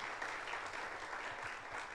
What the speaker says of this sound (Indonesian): yang di sini beri tepuk tangan dulu buat yang ada di rumah-rumah.